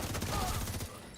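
Rapid burst of video game gunfire fired at point-blank range, a short loud rattle of shots that cuts off within a second.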